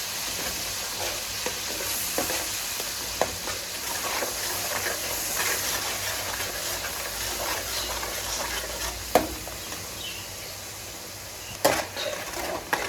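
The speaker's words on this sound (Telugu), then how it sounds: "కొంచెం ఉల్లిపాయలు ఎర్రగా అయ్యే వరకు వేయించుకోవాలి." Onion paste fries in a pan for Andhra fish curry, giving a dense, even sizzle with periodic spatula scrapes and a couple of louder knocks against the pan, close up with no voices.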